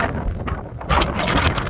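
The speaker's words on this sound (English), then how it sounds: "it's really not too windy yet. Maybe 20 mile an hour winds." Wind buffets the microphone outdoors in Florida ahead of Hurricane Ian, giving a loud, ragged rumble and gusty rush that builds slightly through the short stretch.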